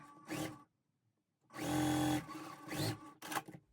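A sewing machine stitches a fabric strip onto a quilt block in close, loud bursts: one brief run, a pause, then a longer steady whir and a final short spurt.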